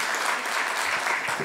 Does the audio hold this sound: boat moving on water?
no